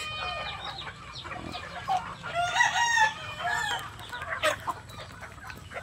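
Gamefowl chickens cluck in a pen while a rooster lets out a clear crow nearby, with scattered softer clucks and calls around it.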